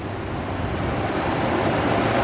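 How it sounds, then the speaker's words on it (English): Ocean surf near the shore at a coastal property makes a steady, broad wash, with wind noise buffeting the microphone throughout. "We are near the ocean"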